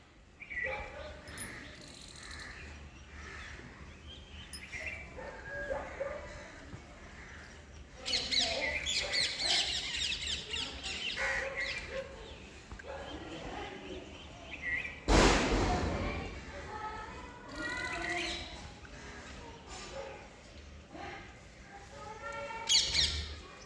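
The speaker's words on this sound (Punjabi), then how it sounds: "ਕਿੰਨੀਆਂ ਪਿਆਰੀਆਂ ਛੋਟੀਆਂ ਛੋਟੀਆਂ ਚਿੜੀਆਂ ਆਈਆਂ ਆ" Small sparrows chirp and squawk in quick bursts, several calling at once nearby, with a brief louder rustle partway through.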